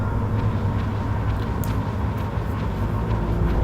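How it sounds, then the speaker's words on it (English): A train rolls past in Metal Gear Solid 3: Snake Eater, a continuous loud rumbling roar with low mechanical tones and a brief metallic squeal midway, no voices. "Ooh, we got a nice stealth train."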